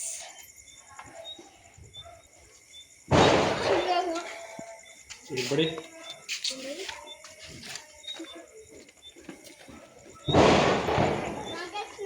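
Diwali firecrackers and rope bombs going off in a residential colony, two loud bursts several seconds apart with crackling sparks between them and people talking in the background.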